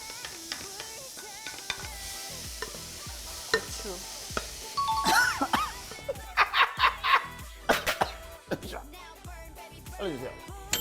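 Onion stirred in a dry pan with no oil while making a Gyeongsang-style Korean dish, with repeated scraping and clattering of the spatула against the pan, light sizzling, and occasional sharp knocks that grow busier toward the end.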